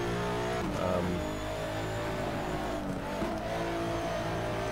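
A race car engine drones loudly in the Race 07 video game, holding a sustained tone with shifting pitch as the car steers through turns, plus a faint tire squeal.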